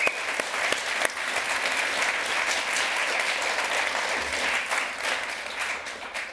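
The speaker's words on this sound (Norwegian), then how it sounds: "En applaus til for gutta!" Audience applauding at a launch party for a book and film, a full room of steady clapping, close and fairly loud, continuing evenly for several seconds without talk.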